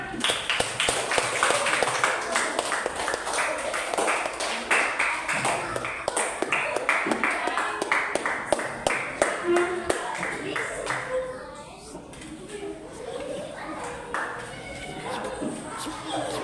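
A class of fourth-grade students claps steadily and continuously for a group coming forward to present, dense hand claps filling the room at a constant level with children's voices chattering underneath.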